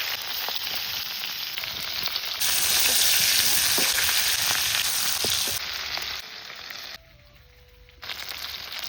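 Fish sizzling as it fries in hot mustard oil, a loud, dense crackling hiss that swells when the pieces go in, then eases and drops away near the end, with no talking.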